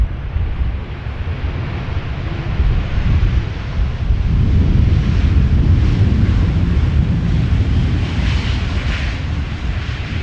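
A Boeing 737 lands at Amsterdam Schiphol without reverse thrust, producing a broad, rumbling roar that swells and then eases, with steady wind buffeting the microphone outdoors.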